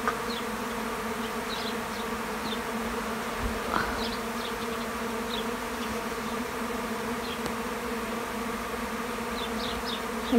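Honeybees buzz in a dense, steady drone while being caught and moved into a top bar hive, with individual bees zipping close past now and then over the constant swarm hum.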